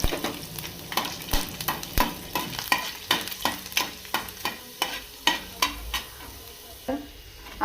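Garlic cloves frying in hot oil in a wok, a soft sizzle under a regular series of sharp scraping and tapping strokes, about two per second, close by.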